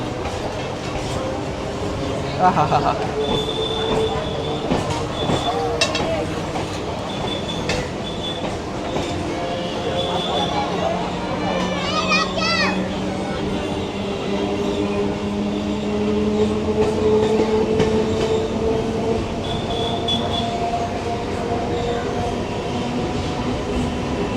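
A Kolkata circular rail local train runs along beside the Ganges, with a steady loud rumble of wheels on track, rhythmic clatter, and occasional squeals and tones throughout.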